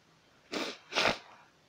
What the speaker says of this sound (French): je dois éternuer